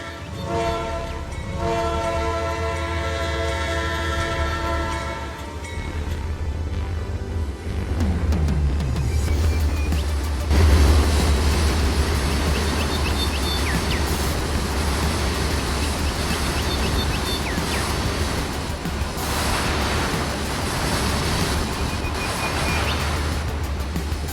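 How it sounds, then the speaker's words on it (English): Railway sounds from the Trainz train simulator game, with a loud horn blast at the start, then rolling wheels and steady clickety-clack over the track, continuous and close. "you can have custom track sounds like the ones that you hear here"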